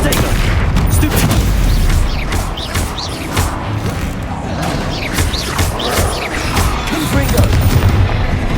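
Confringo spells fire in Hogwarts Legacy, setting off repeated loud booming blasts and crashes in quick succession while a player talks throughout.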